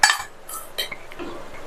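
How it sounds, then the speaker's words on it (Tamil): A spoon clinks and scrapes against a bowl while chapati stuffing with cheese and coriander is mixed, with a sharp metallic clatter at the start and then a few lighter, scattered taps. "இப்ப இதை லைட்டா எல்லாம் ஒன்னா மிக்ஸ் ஆகுற மாதிரி இந்த மாதிரி கலந்து கொடுத்துடலாம்."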